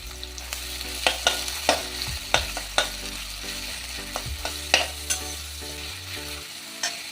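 Chopped onions with whole spices and black pepper fry in a pan, a steady sizzle broken by several scraping stirs of a spoon against the pan, close and clear with no talking.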